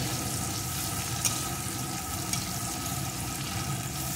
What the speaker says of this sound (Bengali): পেঁয়াজটাকে একটু ভেজে নেব, খুব বেশি লাল লাল করে ভাজবো না